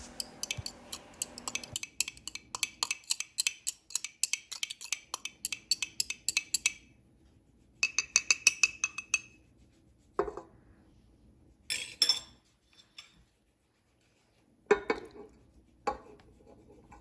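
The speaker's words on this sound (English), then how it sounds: "I'm going to scramble my eggs quickly with a fork so they will mix better with the rest of my batter" Rapid fork whisking of eggs in a bowl for peanut butter oat dog cookie batter, a fast run of tinny clinks and scrapes in bursts, then a few separate taps against the rim; no talk.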